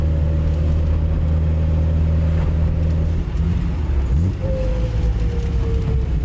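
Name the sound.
Nissan Z car exhaust with resonator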